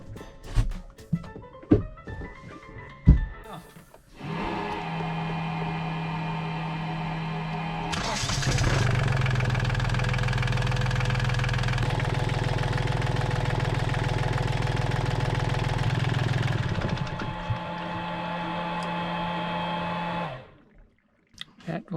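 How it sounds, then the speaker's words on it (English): An engine left running after an oil filter change starts up with a clatter, then holds a steady idle. Partway through it rises to a louder, fuller drone for several seconds, then drops back to idle and shuts off. "we've changed the filter, so we need to run the engine, get all the oil through all the different passages"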